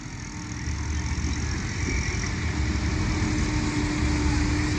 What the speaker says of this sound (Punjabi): ਮਸ਼ੀਨਰੀ ਦਰਿਓ ਪਾਰ ਖਲੋਤੀਆਂ ਨੇ ਤੇ ਆ ਮਸ਼ੀਨਰੀਆਂ ਚੱਲਣ ਡੀਆਂ ਨੇ